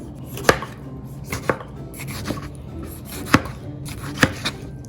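A knife roughly chops tomatoes on a cutting board in irregular, sharp strikes, about five or six firm hits spaced roughly a second apart, close and clear.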